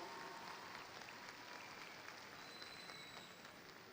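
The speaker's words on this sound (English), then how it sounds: "graduates, would you please applaud the faculty that has taught you all these classes" Faint, sustained applause from graduates at a university summer commencement ceremony, a distant crowd clapping evenly in a large hall.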